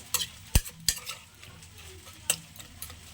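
A ladle stirs masoor lentils and jute greens in a pot, making a few sharp metallic knocks and scrapes spread over a low background of wet mixing and faint sizzle.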